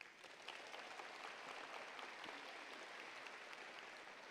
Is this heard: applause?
yes